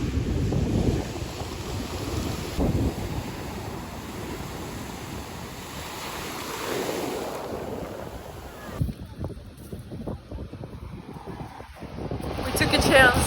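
Large sea waves surge and crash along the Georgian coast in rough weather, a steady roar of surf mixed with heavy wind buffeting the microphone throughout.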